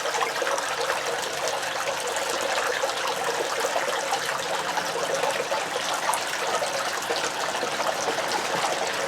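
Water rushes steadily through a gold sluice processing black sands, a constant even trickling wash with no pauses or voices.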